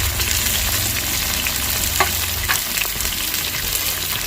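Onions and tomato sauté in a pan for ghee rice, a continuous dense sizzle with occasional stirring clinks, close and steady throughout without any speech.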